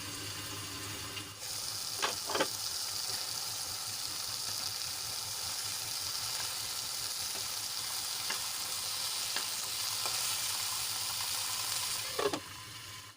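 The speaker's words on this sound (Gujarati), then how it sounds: "ટમેટા આપણા સાવ ચડી જાય ત્યાં સુધી આપણે એને ચડવા દઈશું" Tomatoes cook in a covered pan for tomato chutney, giving a steady soft sizzle throughout with a few faint clinks and stirring sounds, no voices.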